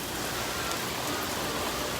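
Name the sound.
rain pouring down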